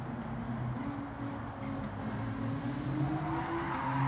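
A Škoda Vision Gran Turismo race car in Gran Turismo drives almost silently in a race, giving a low, steady hybrid-electric hum and faint whine with little engine noise.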